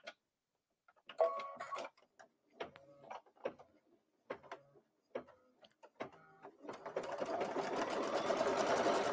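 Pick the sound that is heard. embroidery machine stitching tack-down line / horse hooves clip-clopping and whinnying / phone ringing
embroidery machine stitching tack-down line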